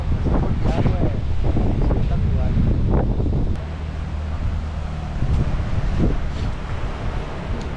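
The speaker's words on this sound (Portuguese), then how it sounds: "Tá ventando muito." Strong wind gusts buffet the microphone at a seaside lookout, a loud continuous roar with surf-like wash underneath, with people talking over it.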